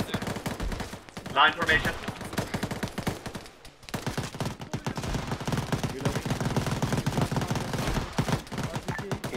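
Dense automatic and rifle gunfire crackles through an Arma 3 firefight, rapid bursts and single shots layered nearby and at range, with voices calling out over the shooting.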